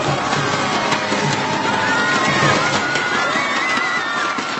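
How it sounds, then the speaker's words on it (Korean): Audience applause and cheering for the first-place award at a StarCraft Remastered Brood War tournament ceremony, a steady dense crowd roar held throughout at full volume. "이리를 박수로 받아주십시오."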